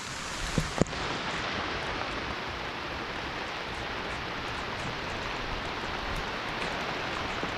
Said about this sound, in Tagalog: tara po grabing ulan